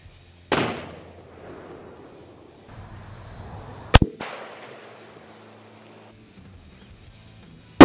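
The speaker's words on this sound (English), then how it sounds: "400 grain soft tips, 500 Smith & Wesson Magnum, let's go take a shot" A .500 Smith & Wesson Magnum revolver firing 400 grain soft-tip rounds into a row of water-filled milk jugs: two loud, sharp close reports, each followed by a decaying rumble, and a third blast right at the end.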